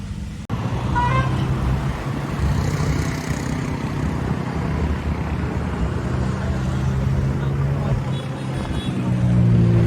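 Continuous road traffic hum in an Indian city, with engine rumble and a brief horn toot, heard from inside a vehicle stuck in a jam on the way to a temple visit, with voices talking over it.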